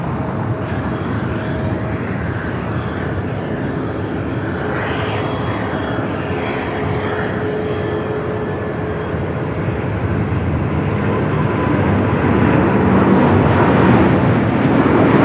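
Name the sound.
El Al airliner taking off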